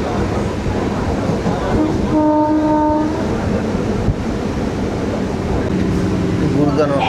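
A local train rolls toward Gurudasnagar station on the Sealdah–Diamond Harbour line, with a loud, steady rumble of carriages heard from inside and a short horn blast in the middle.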